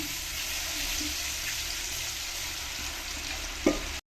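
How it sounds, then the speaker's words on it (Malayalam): Pieces of kera fish fry in oil for a Kerala-style fish pickle, giving a steady, close sizzle throughout with a single sharp knock just before the sound ends. "ബാക്കിയും കൂടെ നമ്മൾ വറുക്കാൻ ഇടാൻ പോവാണ്"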